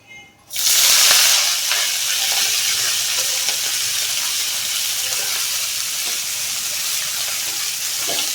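Saag greens dropped into hot oil set off a loud burst of sizzling, which settles into a steady frying hiss with occasional stirring scrapes from start to finish.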